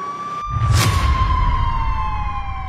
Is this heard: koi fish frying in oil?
no